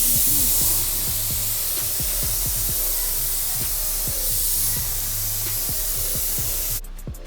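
A paint spray gun hisses steadily as it lays clear coat onto a car, close and continuous with brief pauses and faint clicks of the trigger, ending abruptly.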